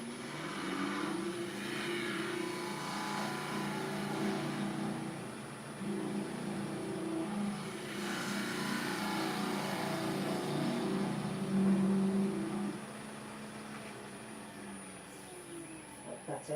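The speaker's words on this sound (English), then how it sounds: "give it a lovely cut with the bowl gouge" A wood lathe spins a workpiece with a steady low motor hum while a bowl gouge cuts the end grain, adding a rough scraping rasp that swells and fades over several passes before the tool lifts away.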